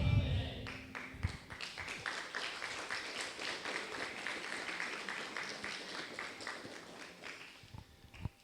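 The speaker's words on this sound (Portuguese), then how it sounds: "Aplaude o Senhor aí," A church congregation applauds together in a steady, moderately loud spread of clapping that runs throughout, with a few sharper claps standing out near the start.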